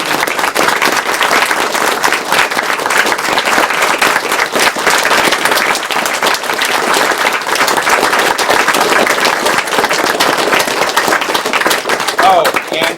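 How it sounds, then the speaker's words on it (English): Dense, loud applause from a live audience at the Awesome Games Done Quick 2013 speedrun marathon, continuous rapid clapping that holds steady throughout with a faint murmur of crowd underneath. "she deserves a big round of applause for all the support she's been giving SDA"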